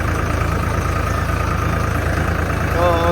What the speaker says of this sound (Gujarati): આપણે ટ્રેક્ટર લઈને નીકળી ગયા છે.